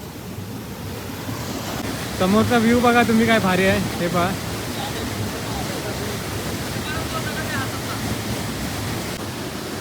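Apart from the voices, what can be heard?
river and streams flowing from mountains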